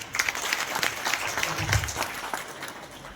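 An audience applauds loudly and steadily, a dense patter of many hands clapping together, with a brief voice rising underneath partway through.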